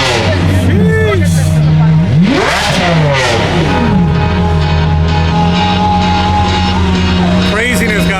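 An Audi R8 engine at a car meet, loud and close, revving in sweeping rises and falls of pitch, then settling into a steady rumble, with someone talking over it throughout.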